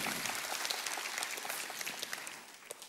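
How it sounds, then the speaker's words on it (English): A church congregation claps during a sermon, a dense, lively wash of many hands with scattered sharper claps, steady at first and thinning slightly toward the end. "let's give God a clap offering for that."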